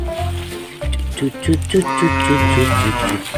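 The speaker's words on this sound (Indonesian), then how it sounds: "suara sapinya semakin dekat teman-teman" A Limousin cow moos in drawn-out, low calls close by, partly under a voice talking excitedly over it.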